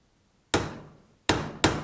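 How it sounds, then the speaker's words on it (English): Three sharp metallic hammer strikes on a punch over wood, one then a pause, then two in quick succession, each ringing briefly. "So I put it here over a piece of wood, and I'm gonna hit it with the hammer."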